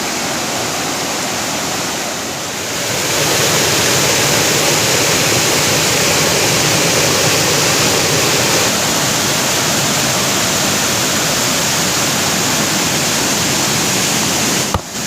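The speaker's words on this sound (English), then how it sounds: "Certainly a fair bit of water pouring over the end there." Loud, continuous roar of a waterfall, water pouring heavily in a steady broadband rush with no pauses.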